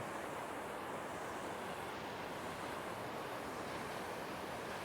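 A continuous wash of ocean surf on the shore at Akkaraipattu, Batticaloa, waves rolling and breaking in a steady hiss, heard faintly from some distance with no voices.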